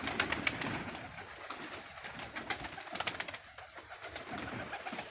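Pigeons, kalsari kaldumbi birds, coo softly and repeatedly at close range in the early morning, the low throaty calls overlapping with faint background bird chatter.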